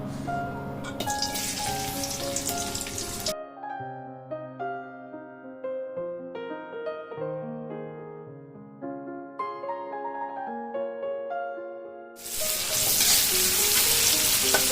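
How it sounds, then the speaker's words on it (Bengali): Two medium onions frying in white oil toward golden brown produce a loud, dense sizzle at the start and again at the end. A stretch of soft melodic music fills the long middle section instead. No speech. "এবার এটাকে আমি বেরেস্তার মতন করে ভাজবো"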